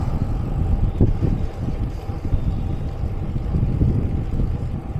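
A headwind buffets a touring cyclist's microphone on a long road stage, a steady low roaring rush with uneven gusty swells and no talking.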